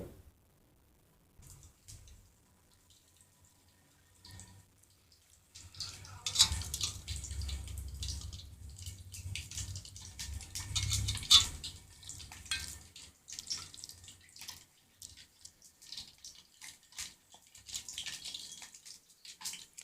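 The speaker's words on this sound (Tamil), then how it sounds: "நம்ம ஈஸியாக தட்டிட்டு இப்படி தட்டிகிட்டே நம்ம வந்து டேரெக்டாகவே எண்ணெயில் போட்டுடலாம்" Banana flower vadai patties frying in hot oil, a steady crackling sizzle that swells loudly after a quiet start and carries on with soft watery bubbling and brief clatter.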